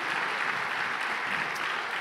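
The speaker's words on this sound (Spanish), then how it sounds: "Denle un fuerte aplauso al Señor." A church congregation claps during a Sunday service, a brief, steady wash of applause without any talk.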